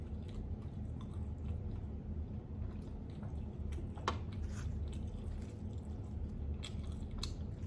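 Close, steady chewing and mastication while eating Lao fish laap (larb pa), with soft wet smacks and occasional crisp bites repeating over a constant low background.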